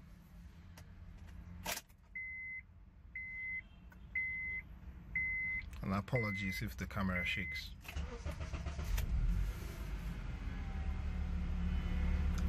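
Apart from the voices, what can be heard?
car engine starting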